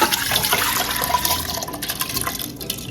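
Water splashes and gurgles continuously into a pressure cooker holding washed lentils, poured close by for a few seconds with no talk.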